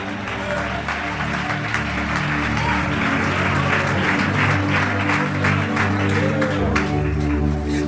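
Congregation clapping during a Malayalam church sermon, a steady sustained round of applause lasting throughout, with a voice present beneath the claps.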